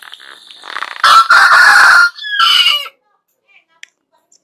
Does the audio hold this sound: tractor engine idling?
no